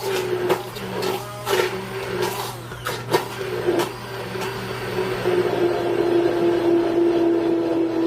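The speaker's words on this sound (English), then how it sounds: "Don't you love these hand blenders, right?" A hand blender whirs steadily through food in a live cooking demo, a close mechanical motor hum with clicks and changes in pitch as it works, growing more even and sustained toward the end.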